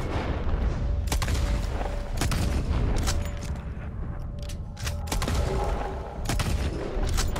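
Repeated gunfire in Red Dead Redemption 2, sharp shots scattered irregularly through a dense, loud, continuous din of game combat and ambience, with no talk.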